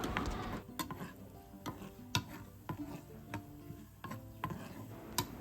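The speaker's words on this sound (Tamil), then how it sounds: "ஒரு பேனில் வந்து நெய் வந்து சேர்த்துட்டு இதில் வந்து முந்திரி பருப்பும் சேர்த்து நம்ம வந்து ஃப்ரை பண்ணிக்கலாம்" Soft, steady sizzling of cashews frying in hot ghee, with scattered sharp ticks and taps of a spoon stirring the pan, fairly quiet.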